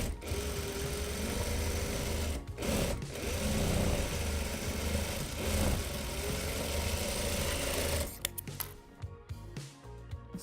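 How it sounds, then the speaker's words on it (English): A sewing machine runs steadily stitching the side seam of a reversible tote bag, a close, even mechanical whir for about eight seconds before stopping with a few soft clicks and handling noises. "So now you're going to sew the other side."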